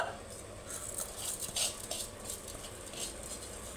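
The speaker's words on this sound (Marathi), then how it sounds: "सगळे तांदूळ टाकायचे। खिचडी जे तांदूळ आहेत ते एकदम छान परतून घ्यायचे।" Washed rice tipped into a pot and stirred on high flame for moong dal khichdi, with soft scraping, light patter and faint sizzle at low level, metal utensil clinks now and then.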